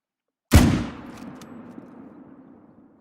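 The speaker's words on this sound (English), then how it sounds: "how dare you hear my gunshots?" In a video game, a single loud gunshot cracks sharply, then a long rumbling echo fades away over a few seconds.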